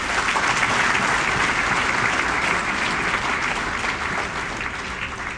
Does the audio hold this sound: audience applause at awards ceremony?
yes